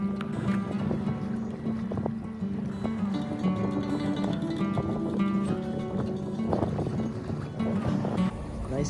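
A sailboat motors under engine power at night: a steady low engine drone with water rushing along the hull, continuous throughout, while people talk over it.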